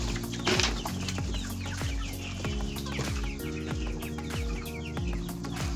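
Local desi chickens on a chicken farm, with steady clucking and rooster-like calls from several birds close by, overlapping continuously and joined by occasional wing flaps.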